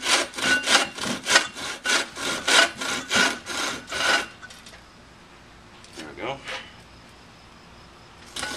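Hand saw cutting into a wooden bow riser to shape its fades, about a dozen steady rhythmic rasping strokes close by for four seconds, then stopping, followed by a few soft scrapes and handling knocks.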